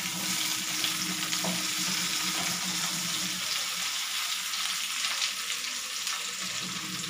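Pork and tofu frying in a pan are stirred, a steady dense sizzle running throughout with the scrape and clatter of the spatula now and then, close and fairly loud.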